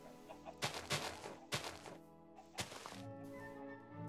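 Chickens cluck in the Minecraft video game, with several short, knocking clucks in irregular bursts over a steady game background, moderately loud and close with no talking.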